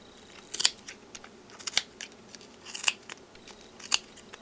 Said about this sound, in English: I take my scissors. I cut it here